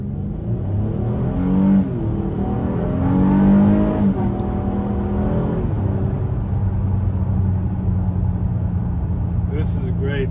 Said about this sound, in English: I'm gonna stay quiet and rev it, like just go.